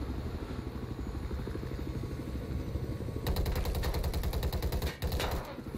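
Helicopter rotor chopping and rapid gunfire from a helicopter battle in a multiplayer video game match, loud and continuous, with a burst of fast automatic fire joining in partway through.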